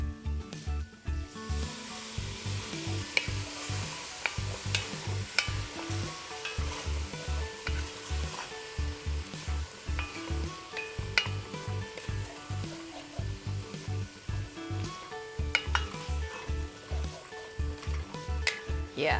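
Beer poured into a hot pan for beer-braised short ribs bubbles and sizzles steadily while a utensil scrapes the bottom in a constant rhythmic back-and-forth, close and continuous with no talk.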